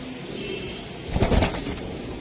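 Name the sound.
silver racing pigeon cooing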